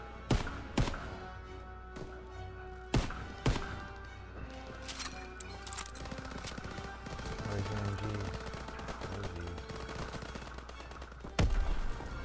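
Gunfire in the Call of Duty WWII campaign, scattered loud single shots and bursts in a battle, with a steady rumble and background music between them.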